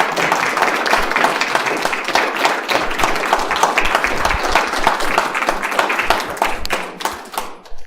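Audience applause at a talk, dense steady clapping from many hands that holds for several seconds and then thins out toward the end.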